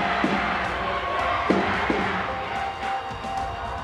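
High school juniors chant loudly as a crowd during a class chant competition, a dense, steady roar of many voices with a few sharper shouted accents.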